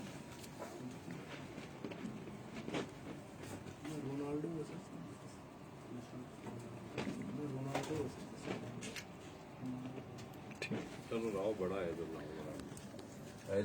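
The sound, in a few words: racing pigeons cooing in the loft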